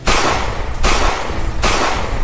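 Three sharp gunshots ring out at even intervals, each a loud crack followed by a short decaying echo, recreating the 1948 shooting of Gandhi in the courtyard of Birla House, Delhi.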